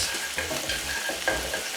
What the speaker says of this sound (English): I'll just throw in that sizzle